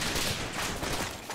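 Rapid gunfire in the war game Combat Mission Shock Force 2, a dense crackling fusillade of overlapping shots that continues throughout the short burst at moderate level.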